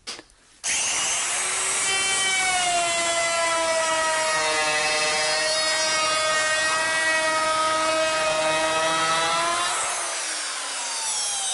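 A spinning router bit cuts decorative ends into a wooden pergola joist, a loud, steady high-pitched whine with shifting tones that runs for about ten seconds before winding down.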